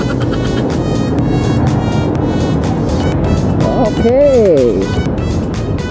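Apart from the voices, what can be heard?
heavy street traffic, cars passing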